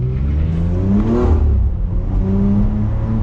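BMW X3M Competition engine revving to about 4,000 rpm, a close, loud rising roar that peaks and then settles back to a steady, throaty hum.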